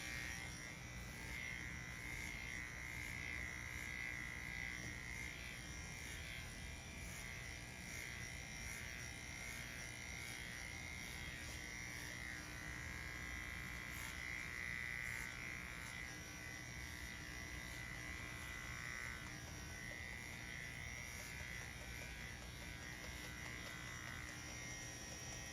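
Electric clippers grooming a poodle mix dog, a continuous close buzzing hum that holds steady and alone throughout.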